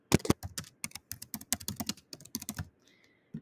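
Brisk typing on a computer keyboard, a title entered in uneven bursts of crisp, close key clacks with short pauses, trailing off into quiet at the end.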